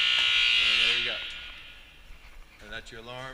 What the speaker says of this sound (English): And that's your alarm, and you can hear it actually kick on right now.